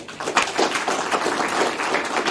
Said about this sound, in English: If we give Gary a round of applause.